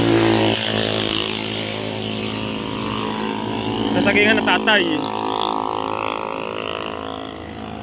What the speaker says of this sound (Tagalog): Ingay naman ang motor na yan.